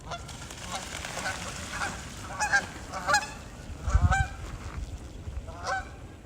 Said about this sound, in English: there's a bunch of wild geese down here